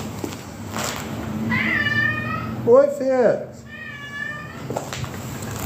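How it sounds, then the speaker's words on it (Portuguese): A pet kitten waiting at home gives a few close, drawn-out meows, while someone talks over and between the calls. "Olha o meu gatinho me esperando"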